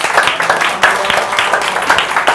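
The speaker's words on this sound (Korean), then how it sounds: "박수 반응해 주세요." Audience applause at a seminar, a dense wash of many hands clapping steadily at a moderate level, with slight swells in intensity.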